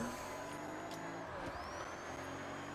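A car engine in the Forza Horizon racing game hums steadily with a faint whine rising over it, a continuous moderate drone lasting a few seconds with no talk.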